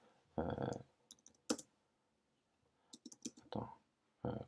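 Code being typed on a computer keyboard comes through as scattered quiet clicks and short bursts of keystrokes, separated by pauses, close and soft in a calm room.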